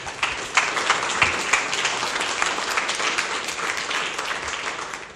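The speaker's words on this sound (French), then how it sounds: "On va encore applaudir." An audience at a scientific conference day applauds steadily, a dense continuous clapping from a full room, fairly close and with no talk over it.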